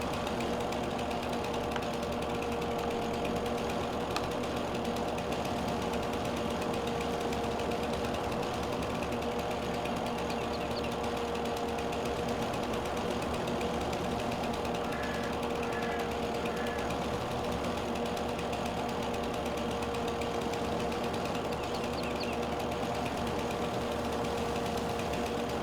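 A tractor mower engine in Farming Simulator 22 drones on at a steady pitch throughout, with a constant buzzing hum and a faint mechanical clatter, no clear changes in load.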